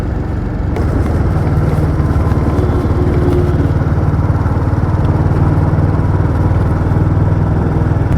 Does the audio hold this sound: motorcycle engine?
yes